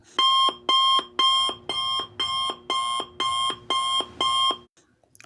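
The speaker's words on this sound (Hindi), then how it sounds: "क्योंकि अब शुरू हो रही है टिक टिक" A quiz countdown timer sound effect plays as nine evenly spaced, loud electronic beeping bursts in a steady rhythm, then stops, leaving near silence.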